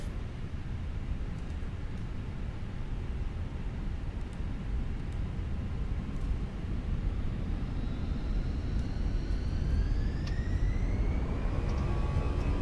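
An Airbus A319 in a flight simulator game on its takeoff roll from runway 25, a steady broadband engine roar with rising whining tones building toward the end, continuous and fairly muted.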